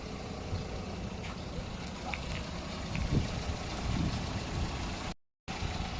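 A Toyota Etios Liva ex-taxi engine idles steadily with a low, even rumble, close by, with a faint voice briefly in the background and a short dropout near the end.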